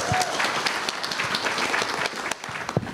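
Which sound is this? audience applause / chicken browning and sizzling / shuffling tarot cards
audience applause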